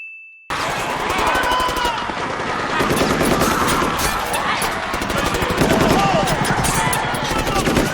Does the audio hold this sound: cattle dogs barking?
no